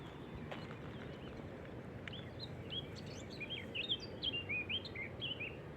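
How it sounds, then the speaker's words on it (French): Small birds, apparently a tit among them, chirp and sing in short, high, repeated phrases over a steady outdoor rumble above a valley, getting a bit louder toward the end. "Ça doit être une mésange, ça."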